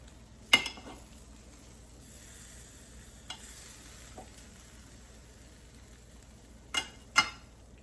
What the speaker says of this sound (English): I'm gonna mix it a little bit.